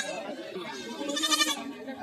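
A local goat at a crowded weekly livestock market in Kaharol, Dinajpur, bleats in a loud, wavering cry close by, swelling in the middle and trailing off.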